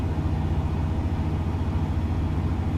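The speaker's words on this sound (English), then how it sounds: "the engine sound is different from newer models in the game" A truck engine in American Truck Simulator runs at a steady low rumble, a continuous deep drone with no breaks, fairly loud and alone with no talking.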